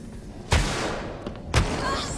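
Two sharp gunshot blasts in the video game Alien: Isolation ring out about a second apart, each leaving a brief echoing tail over a low background hum.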